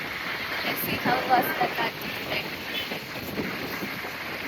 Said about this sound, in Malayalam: കോതിപ്പാലത്ത് നല്ല ചൂട്, സോറി, നല്ല കാറ്റുണ്ട്. നല്ല കാറ്റ്, നല്ല സുഖമുള്ള കാറ്റാണ്.